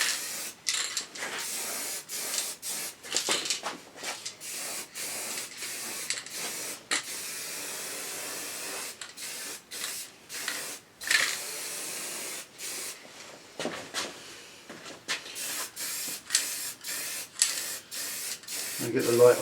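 Guide coat paint sprayed onto a Triumph bash plate in a garage, heard as a series of short, close hissing spray bursts, some briefer and some longer, separated by quiet pauses.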